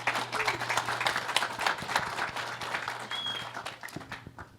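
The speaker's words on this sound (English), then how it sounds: "Let's give them one round of applause." An audience applauds a panel, with steady clapping that fills the clip and fades near the end.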